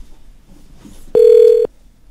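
A steady electronic telephone tone sounds on a radio call-in line after a caller disconnects, one loud sustained beep lasting about half a second amid low line noise, followed by the start of another.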